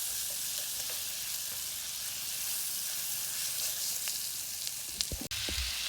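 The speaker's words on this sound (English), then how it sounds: "we're gonna add the ground beef and get it browned" Ground beef browning in a pan for Lubia Polo gives a steady, even sizzle and fry throughout, with a few light clicks and a sharp knock near the end.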